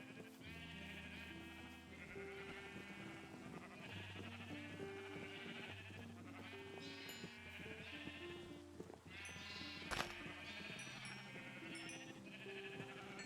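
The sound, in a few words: sheep bleating in a video game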